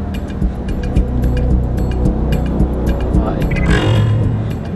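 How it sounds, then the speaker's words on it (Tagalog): A car engine rumbles loud and close, idling and revving briefly as the vehicle pulls up and stops beside a bank, with traffic noise around it. "Huminto ang kanilang sasakyan sa gilid ng bangko."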